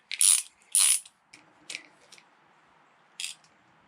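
Screws being undone on the triple clamp holding a bent motorcycle handlebar on a Husqvarna Vitpilen, giving a few short, loud ratcheting bursts near the start, then softer clicks with one more burst near the end.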